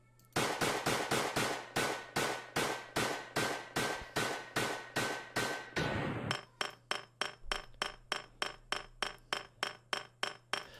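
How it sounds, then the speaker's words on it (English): A shotgun sound effect for a first-person shooter game, with a steady rhythm of loud, evenly spaced shots that shift after the midpoint into a faster, thinner string of sharp metallic reports, suggesting an overheating weapon. "shooting the last bullet, and the gun will be overheated or something like that. Take a listen."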